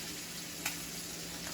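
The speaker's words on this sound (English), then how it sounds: "you usually sear these for about 2 minutes on each side" A T-bone steak pressed flat and seared in a hot pan gives off a steady, close sizzle that runs evenly throughout, with a brief sharper crackle partway in.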